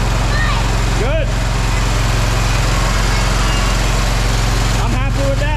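The engine of a Walker MT GHS mower, recently converted from EFI to a carburetor, runs at a steady, loud idle throughout. Brief voices sound near the beginning and the end.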